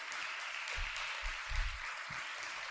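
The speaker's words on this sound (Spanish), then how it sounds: "Dele fuerte ese aplauso al Señor." A church congregation applauds during a sermon, with steady, even clapping that stays fairly quiet, plus a few low thumps underneath.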